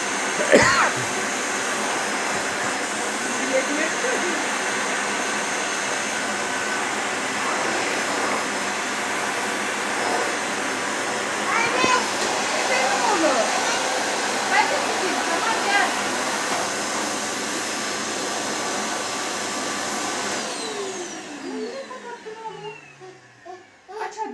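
A household vacuum cleaner runs steadily with a loud broadband whoosh, switched on for a small boy, with a parent talking and a voice faintly over it before the motor winds down near the end.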